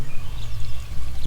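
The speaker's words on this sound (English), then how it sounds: "a little sparkling water" Sparkling water pours in a short, loud, close stream with a fizzy, bubbling rush and no talking.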